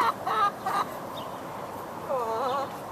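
A chicken clucks close by in a few short bursts, a quick pair of clucks followed by a longer drawn-out complaining cluck after a quiet pause, with no talking.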